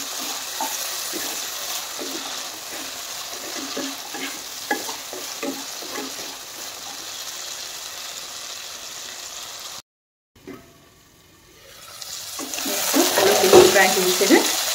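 Chickpeas fry in oil in a pan, giving a steady sizzle broken by stirring scrapes. The sizzle drops out briefly and then returns louder and rushing.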